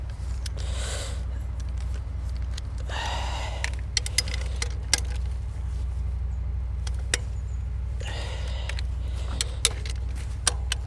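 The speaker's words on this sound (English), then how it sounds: "We are going to torque them with the ratchet." A ratchet tightens bolts on a Toyota Auris/Prius hybrid EGR valve, giving scattered close clicks and short bursts of ratcheting over a low steady background hum.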